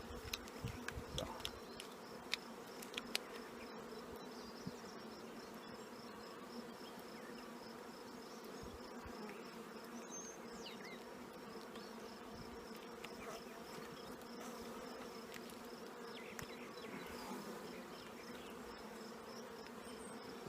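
Honeybees buzz in an opened hive, a faint, steady, close-up hum of many insects with occasional louder passes, and no talking.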